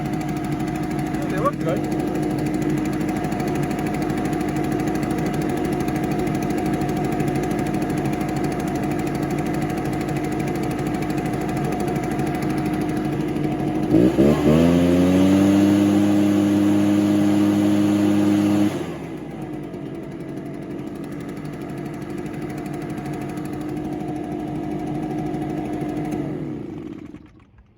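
An Echo PB580-T backpack leaf blower engine, fitted with a replacement carburetor, runs steadily and loud nearby, rising into a brief rev before dropping back to a lower drone, with people talking over it.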